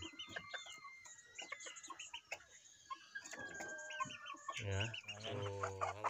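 Super Brown Red gamefowl of the Mt. Banahaw line cluck and call close by in scattered bursts, with a louder throaty call near the end, while someone talks quietly over them.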